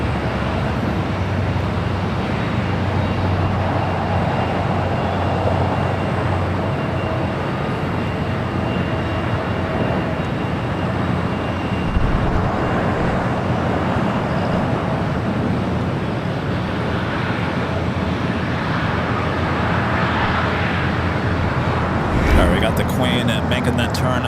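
A United airliner taking off from runway 25 right at LAX, a steady broad engine roar held at a distance for a long stretch, with speech over it.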